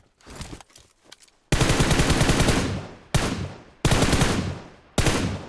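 Loud bursts of automatic gunfire in the battle royale game PUBG Mobile, three long rapid volleys separated by short gaps after a quieter opening patch of softer shots.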